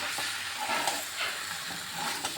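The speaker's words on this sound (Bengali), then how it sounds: "এখন আমি এখানে অল্প পরিমাণে একটু ঘি দিয়ে দিচ্ছি ঘিটা ভালোভাবে মিশিয়ে দিচ্ছি" Raw jackfruit frying with ghee in a pan as it is stirred, a continuous close hiss and sizzle with soft scraping strokes swelling and easing, no voices.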